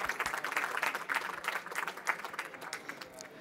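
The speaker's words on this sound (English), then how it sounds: "Let's give another round of applause to Juan Bernabe." An audience at a startup conference talk on managing data applauds, giving a few seconds of dense, moderately distant clapping that stays steady before easing slightly.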